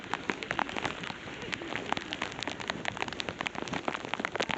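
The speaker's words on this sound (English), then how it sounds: "I am proper in the rain now." Rain falls on someone walking outdoors in a coat, a close, steady patter of drops hitting the surface with crisp individual taps throughout and no speech.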